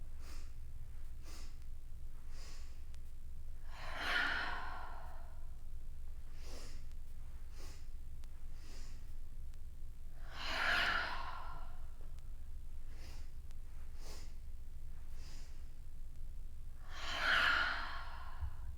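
Breath of joy yoga breathing exercise: three long, forceful exhales, sighing and whooshing, roughly every six seconds, each preceded by quick staccato inhales, close and alone over a low steady hum.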